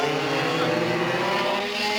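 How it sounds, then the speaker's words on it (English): Go-kart engines racing around a track in Brazil, a dense, loud, high buzzing whine from several karts held steady throughout the short burst. "They have also their engines really going well. They pull very strong."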